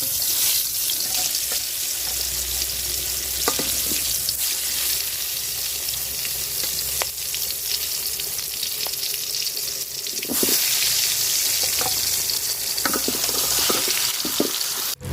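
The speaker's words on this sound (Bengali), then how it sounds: "তো এখন বেগুনগুলা ভাজা নিব।" Eggplant slices coated in turmeric, chili powder and salt fry in hot oil in a pot, with a steady hissing sizzle throughout and a few faint clinks along the way.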